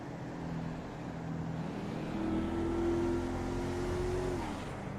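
A 2013 Mercedes-Benz GL63 AMG cruising at a top speed of about 104 mph, heard from inside as a steady, loud engine drone with road and wind roar, a sustained tone rising slightly midway, with no talking.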